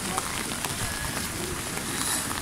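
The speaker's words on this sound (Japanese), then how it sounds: "いやー、雨止まないんよ。" Steady rain falling outdoors at a summer festival in Akita, Japan: a constant, even hiss of drops on surfaces with faint scattered patters, no voices.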